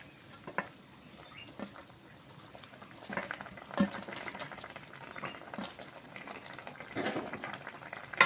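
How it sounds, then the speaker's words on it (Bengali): Soft bubbling and gentle popping from a simmering pan of raw jackfruit kalia curry, with a few sharper clinks and spits rising above the steady low burble. "এখন জাস্ট 2-1 মিনিট একটু ফুটিয়ে আমি নামিয়ে দেবো"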